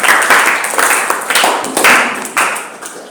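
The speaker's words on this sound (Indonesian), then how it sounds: "Tepuk tangan untuk seluruh kelompok ya." A classroom of students applauds for all the discussion groups, loud close clapping in several surging bursts that swell and fade over a few seconds.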